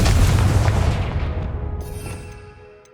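A Confringo fire spell explodes in Hogwarts Legacy as a single loud, close boom that rumbles and fades away over about three seconds.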